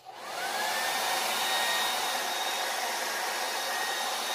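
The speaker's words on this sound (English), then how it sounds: "I did a little layer of that with the dryer" Hair dryer blowing on a lace wig, a loud steady whoosh that spins up within half a second and keeps running with a faint whine, no voices.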